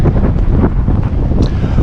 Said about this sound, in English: the wind is just howling through here